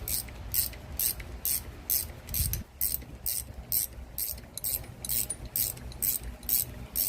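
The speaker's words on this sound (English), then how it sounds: "I'm going to use the ratcheting end. It just makes it a little faster." A ratchet wrench works the rear shock bolts on a Nissan, giving rapid bursts of crisp clicking in a steady back-and-forth rhythm, close and fairly quiet, with a brief dull knock partway through.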